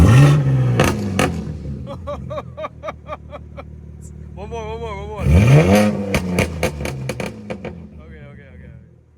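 A 900 hp 2025 BMW M4 Competition xDrive engine revs up in repeated sharp bursts, its pitch sweeping up and falling back, loud and close, while people talk over it.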